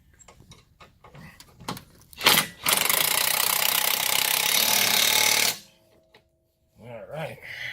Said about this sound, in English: I'm using a nice impact for this, but you don't have to.